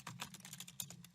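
Someone types a prompt on a computer keyboard, a quick run of soft, close key clicks in an uneven rhythm, faint and alone against a low background hum.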